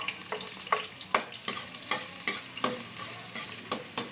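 Onions sizzle steadily in a pan while a utensil scrapes and taps against it in a regular rhythm, about ten close, distinct strokes.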